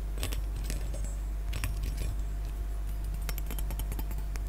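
A metal wire bookmark jingles and clinks in close handling, with bright, small metallic rattles in irregular bursts, like little keys or bells, and no talking.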